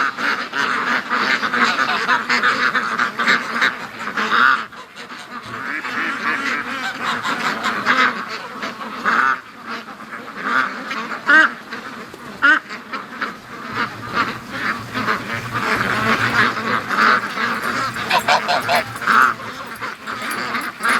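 Hundreds of Muscovy ducks in a farmyard flock give a steady, busy wash of quacks and honks that rises and falls for the full stretch, with no talking.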